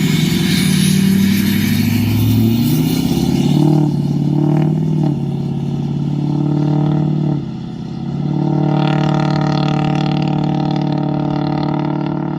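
A 6.0 PowerStroke diesel truck set up to roll coal, its engine revving hard and close with rising pitch, settling into a loud clattering idle, then a brief dip in noise before another sustained rev.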